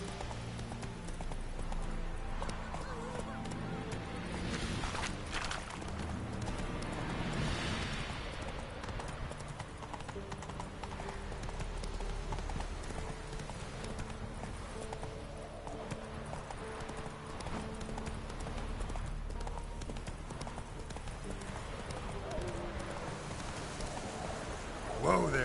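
Roach, a horse in The Witcher 3, clip-clopping steadily at close range with a continuous rhythmic hoof beat, an occasional snort, and game music and ambience underneath.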